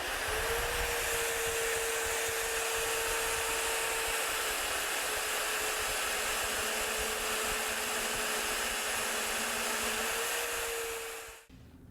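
An Evolution EvoMag42 magnetic drill cutting into metal, its motor whining with a steady loud tone held for about eleven seconds before cutting off abruptly, with no talk.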